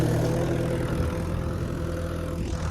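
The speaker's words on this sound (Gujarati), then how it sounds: "મિત્રો વગર ડ્રાઈવર ટ્રેક્ટર ચાલી રહ્યું છે" A tractor running with nobody at the wheel gives a steady, close, low engine rumble that holds at an even level throughout, with no voices.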